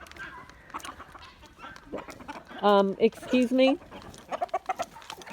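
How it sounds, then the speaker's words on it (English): Roosters' harsh, stuttering calls and clucks break out loudly in the middle, with a person speaking briefly before and after. "Oh my goodness, the roosters."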